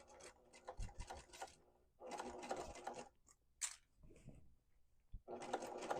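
A sewing machine stitching around the corner of a quilted tote bag, running in three short buzzing bursts separated by pauses with faint handling noises in between.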